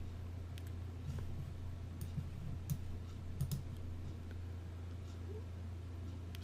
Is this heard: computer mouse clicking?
yes